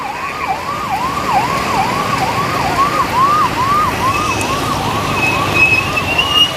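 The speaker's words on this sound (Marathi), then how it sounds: "पोलिसांची गाडी देखील इथून फिरते" A police car siren wails in a steady repeating up-and-down cycle, moderately distant, over a low hum of road traffic on a rain-flooded street.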